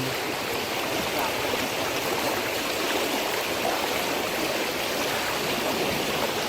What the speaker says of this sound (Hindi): जिले के पताही प्रखंड के कऊ गांव में बाढ़ का पानी तेजी से प्रवेश करने लगा है